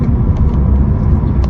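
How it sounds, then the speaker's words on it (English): Naturally aspirated 4-cylinder i-VTEC engine of an old third-generation Honda City, 117 horsepower, giving a steady low rumbling drone close by, continuous and loud throughout with no talk. "That is the grunt of this i-VTEC"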